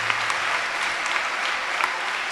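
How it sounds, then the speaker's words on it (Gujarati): Audience at a Rajkot Gurukul gathering breaks into steady, dense applause celebrating India's Chandrayaan moon landing, a continuous close wash of clapping with no speech over it. "આ મોટી સફળતા માટે એકવાર આપણે તાળીઓ પાડીને ભારતની સફળતાને વધાવીએ"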